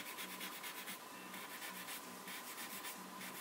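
A tissue rubs charcoal shading into paper for a portrait drawing, making faint, steady, rhythmic papery swishing strokes up close.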